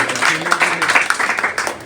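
Audience applause for a teacher at an education event, a brief patter of many hands clapping at moderate loudness, slightly uneven and fading.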